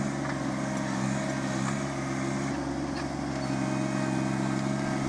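A 4-wheel-drive 758 tractor mowing across a sloped pond bank gives a steady, continuous engine drone with a low mechanical hum that holds at an even level throughout, without voices.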